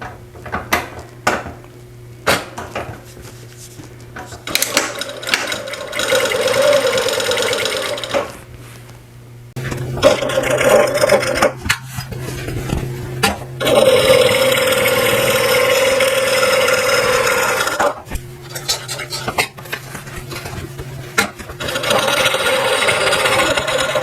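A sewing machine stitches a handmade wallet, running in long steady buzzing stretches broken by pauses and small clunks of handling, close and fairly loud.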